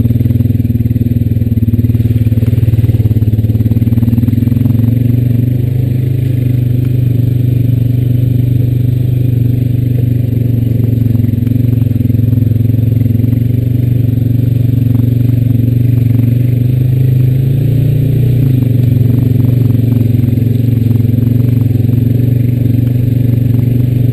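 A Honda Rancher 420AT ATV rides a muddy gas-line trail, its engine holding a loud, continuous low drone close to the microphone, with slight pitch shifts as the throttle changes and faint clatter from the ride.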